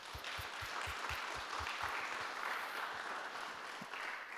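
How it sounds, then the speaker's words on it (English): Applause from the audience at a coaches' professional development gathering, a steady wash of clapping held at an even level for several seconds with no voices over it. "Give her a round of applause."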